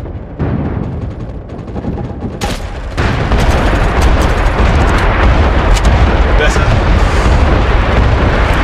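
Artillery shells burst in the online shooter MAG, a dense, loud rumbling barrage of overlapping booms that intensifies partway through and continues without pause.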